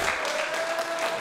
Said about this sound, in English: This crowd shows their appreciation for his efforts.